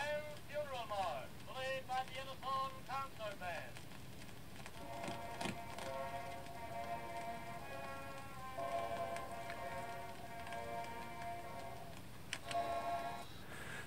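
Music from a phonograph cylinder spinning on an Endpoint Audio cylinder player, thin tonal melody lines over surface hiss and crackle, moderately quiet with a faint thump near the end.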